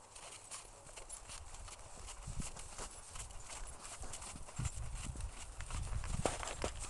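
Horses trotting during a riding lesson, with steady clip-clop hoofbeats on the ground in a busy, continuous rhythm at moderate distance, over background noise and faint talk.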